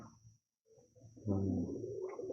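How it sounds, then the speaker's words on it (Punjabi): Low, soft pigeon cooing rises after a brief pause, a steady throaty burble lasting over a second, fairly close, with a faint steady hum behind it. "ਵੀਰ ਜੀ ਬਾਬੇ ਸੁਲੇਮਾਨ ਵਾਲਾ ਹੀ ਕਬੂਤਰ ਆ"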